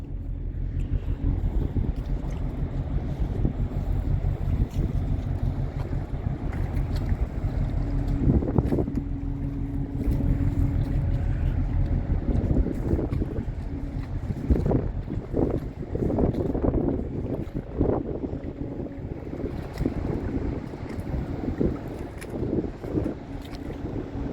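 A steady low container ship engine rumble drones throughout, mixed with wind noise and a faint water wash, with no clear voices.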